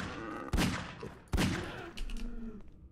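Two sharp pistol shots about a second apart in a Garry's Mod horror map, close and loud with short decaying tails, followed by quieter clicks and thumps.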